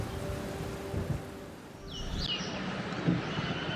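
Steady soft hiss of light rain falling outdoors in Pilibhit jungle, with a low rumbling undertone and no voices.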